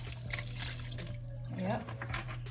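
Running tap water splashes over pork ribs being washed with vinegar in a kitchen sink, a steady, fairly close hiss of flowing water over a low hum.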